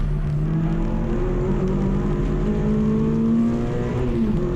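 A race car at a trackday championship round at Donington Park drones at sustained top speed, a steady high-pitched engine whine that climbs gradually and stays continuous and fairly distant.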